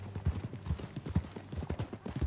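Horse hooves clip-clopping in a steady trotting rhythm in the Red Dead Redemption 2 video game, close and continuous throughout.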